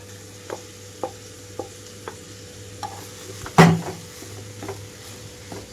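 Rice being stir-fried with vegetables, spices and paneer in a pan, a spatula scraping and tapping the pan every half second or so, then one louder clatter, over a steady low hum.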